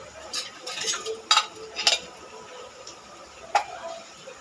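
Garam masala paste is sautéed in a pan while a spoon stirs and scrapes it, producing soft sizzling and a few sharp clinks of metal against the pan, with light talking underneath.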